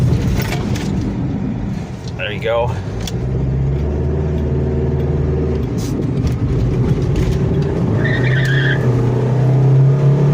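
A 1989 Plymouth Voyager Turbo van rumbles along and then brakes hard, a tire squeal screeching briefly, with a person talking near the end.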